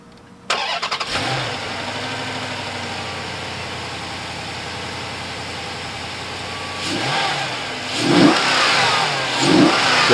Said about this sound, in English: Now start up the car.